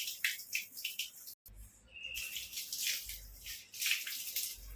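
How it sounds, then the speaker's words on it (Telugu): Hands being washed under a running tap after handling tamarind, a broadband water rush with brief interruptions and faint bird chirps in the background, no talking. "చింతపండు చేస్తే కదా హ్యాండ్ వాష్ చేసుకుంటున్నా"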